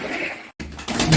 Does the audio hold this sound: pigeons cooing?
yes